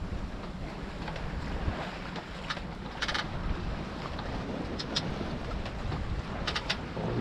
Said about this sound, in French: On a le Génois qui claque un peu.